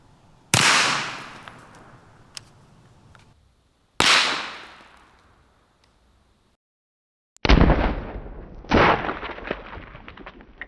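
Three loud, sharp 9mm shots from a Glock bullpup with a 16-inch barrel, firing 115 grain hollow point rounds, each crack followed by a long decaying echo outdoors, the last two spaced closer together.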